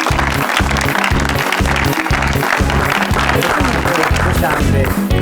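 A studio audience on a talk show applauds to welcome a guest: a loud, dense wash of clapping over a pulsing, beat-driven music cue, continuous throughout.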